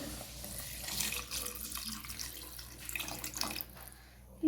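Thin coconut milk being poured into a mutton kurma, a soft, continuous running, splashing pour close by at moderate level, wavering in strength before a louder clatter right at the end.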